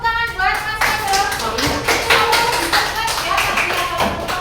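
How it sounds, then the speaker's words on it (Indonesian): Applause in a classroom for Mas Ado during an unplugged coding activity, scattered hand claps and taps from a small group, uneven and fairly close, with some voices mixed in. "Tepuk tangan buat Mas Ado."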